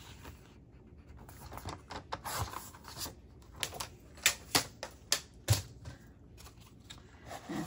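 Close, quiet snips of scissors cutting paper into a small 3 by 3 inch square for homemade sticky notes, several short crisp cuts clustered midway with light handling rustle between them.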